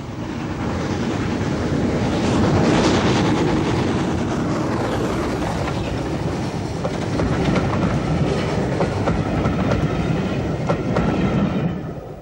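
A preserved Southern Railway steam locomotive runs past with train cars, a steady loud rumble and rhythmic clickety-clack of wheels on rails, swelling and then holding near for several seconds.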